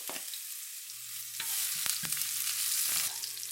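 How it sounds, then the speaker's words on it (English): Garlic and ginger fry in a pan over medium heat, a close, steady hiss and crackle that grows busier after the first second, with stirring clinks and scrapes and no talking. "so you fry up the garlic and the gingers"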